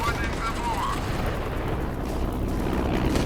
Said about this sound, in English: That gun seems to be shooting.